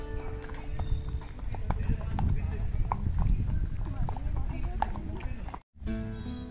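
A horse walks with steady clip-clopping hooves at a yellow rapeseed field where rides are offered, the hoofbeats continuous and fairly close with voices and outdoor background noise alongside.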